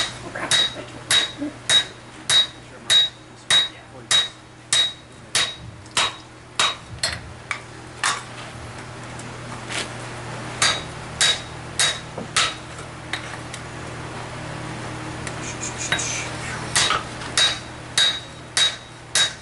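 A hammer striking a hot metal plate being worked into a small anvil, about two dozen sharp ringing blows in a steady rhythm, close and loud with clangs and no talk.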